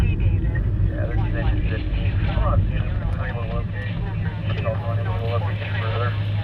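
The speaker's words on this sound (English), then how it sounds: "It's just traffic." Steady road traffic rumble on the streets of Bakersfield, a continuous low engine drone from passing vehicles with a radio or scanner voice chattering over it.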